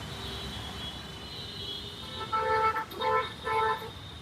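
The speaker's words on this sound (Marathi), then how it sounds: "फुल ट्रॅफिक." Traffic jammed on a bypass road gives a steady roadway rumble, then a nearby car horn honks three times in short, evenly spaced blasts near the end.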